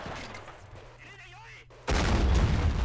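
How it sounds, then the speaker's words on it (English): A Chi-Nu tank fires on an enemy tank in the Men of War: Assault Squad 2 strategy game, a sudden loud booming blast that cuts in after a quieter stretch and rumbles on to the end. "But I got this Chinu right here. And I'm taking shots at his tank"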